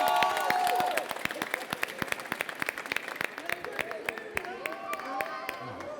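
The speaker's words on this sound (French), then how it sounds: "On peut les applaudir encore une fois très fort" A crowd at an awards ceremony claps steadily in sustained applause, with voices audible over and among the clapping.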